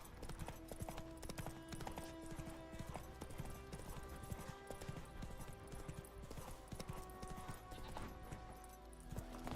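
Horse hooves clip-clop in a steady, brisk rhythm as a mount travels in The Witcher 3 video game, with a quiet game soundscape underneath and no speech.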